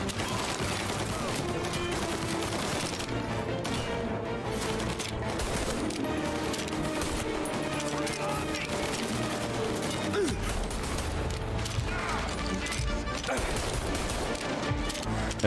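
Gunfire in Mafia Definitive Edition crackles steadily under a thick bed of game music and ambience, shots blending into the mix at moderate level rather than standing out sharply.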